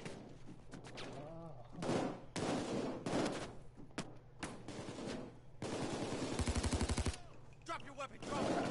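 Light machine gun fire in the PayDay heist game, rapid automatic bursts that come in repeated stretches, the densest burst near the end, with other game noise and some talk mixed in.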